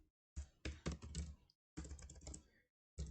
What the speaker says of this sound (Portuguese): Entro em clientes, escrevo Márcio